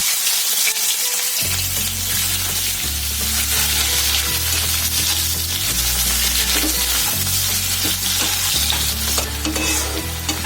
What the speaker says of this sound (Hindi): प्याज को थोड़ा ब्राउन करना है